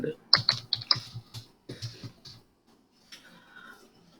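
Quick burst of keystrokes on a computer keyboard, a run of sharp close clicks followed by softer scattered taps as a voice talks alongside.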